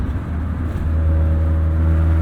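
A 1996 Acura Integra race car built for Lemons endurance racing: a loud, steady engine drone with a deep rumbling note, heard from inside and swelling slightly as the revs hold and climb.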